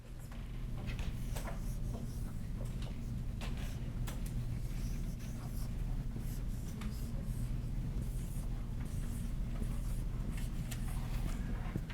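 Marker or chalk squeaking and scratching across a board at a bridge club lesson, steady strokes under a low hum of room noise, no talking.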